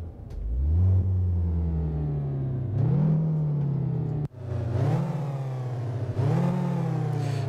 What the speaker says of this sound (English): Let's start the engine, how does it sound?